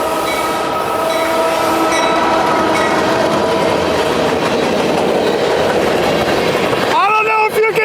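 A train rumbles past close by with loud continuous clatter and rolling wheel noise, ending in a high metallic squeal of wheels.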